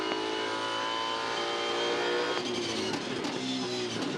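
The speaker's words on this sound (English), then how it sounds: "Great afternoon for V8 Supercar Championship racing" V8 Supercars in a championship race at Queensland Raceway, Ipswich, in 2014, engines droning steadily and loudly with harmonic whine, passing cars shifting pitch partway through.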